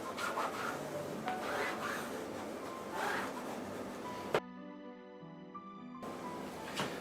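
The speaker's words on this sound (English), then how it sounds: "take my burnishing tool and gently burnish it down" A burnishing tool presses tape down onto a conservation framing mount with soft, quiet rubbing strokes in an uneven rhythm, close by, followed by a short hushed pause and a sharp tap.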